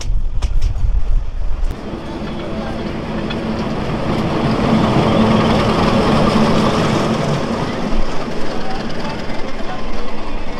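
The Lalmoni Express rolls along the rails in northern Bangladesh with a loud, continuous rumble and rattle of carriages, a few sharp clicks near the start, then a steady churning roar throughout.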